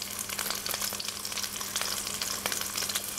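Quartered potatoes fry in melted butter in a pan, a close, steady sizzle with crackling pops scattered through it and no voices.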